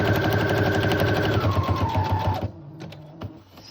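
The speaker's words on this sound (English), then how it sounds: "So the key will be to sew on just the very, very edge." A sewing machine runs a rapid, even zigzag stitch along the edge of a junk journal page, its close mechanical chatter steady for about two and a half seconds before stopping, followed by a few faint clicks.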